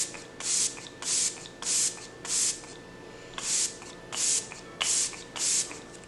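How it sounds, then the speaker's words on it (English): A face mist spray bottle is pumped repeatedly, giving about nine short, crisp hissing bursts in a steady rhythm. The sprays are close and distinct, with quiet gaps between them. "let's spray this magic mist on my face."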